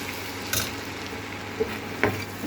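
Potatoes and okra frying in a pan give a faint, steady sizzle, broken by a few short scrapes and stirring clicks, with no talking.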